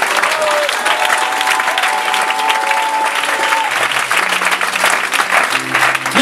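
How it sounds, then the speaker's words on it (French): Applause from a church congregation fills the room steadily and loudly, with a held sung or spoken tone running underneath at first and lower voices coming through near the end. "Oh, tu peux acclamer ça."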